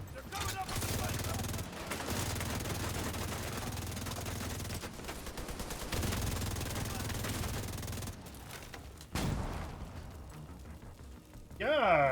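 Enemy gunfire erupts in a video game, dense bursts of rapid shots and fusillades crackling in a near-continuous barrage, with brief lulls and a sharp burst near the end, while talk sits faint underneath.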